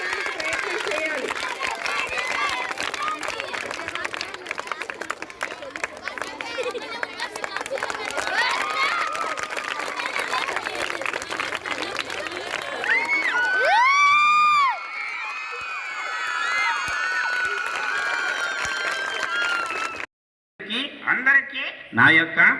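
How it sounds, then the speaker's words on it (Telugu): A school crowd of girls at a felicitation event cheers and shouts, building to loud whoops and excited calls, then drops off abruptly near the end, with talk mixed in. "మరి ఆ సన్మానం మీరంతా చప్పట్లు కొట్టాలి"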